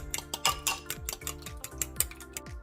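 Four eggs with cooking wine and salt being mixed in a bowl with a utensil, giving a steady run of close clinking and scraping strokes against the bowl, about two per second, with no talking.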